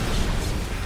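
A short cannon blast in the video game Visions of Mana comes through as a brief, dense burst with a low thump and crashing noise, moderately loud and with no voices over it.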